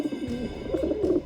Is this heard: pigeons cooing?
yes